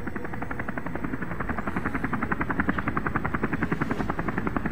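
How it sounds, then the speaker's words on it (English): A helicopter in the video game Deus Ex: Human Revolution drones steadily, its rotor beating in a fast, even pulse that stays loud and close throughout, with no talk. "Please, Chopper, be louder."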